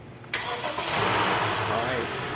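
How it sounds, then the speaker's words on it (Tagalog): A Honda City car engine cranks and starts just after a new battery is fitted, catching abruptly and settling into a steady, close idle, with a voice talking over it. "At dahil okay na, pwede nang i-start itong makina."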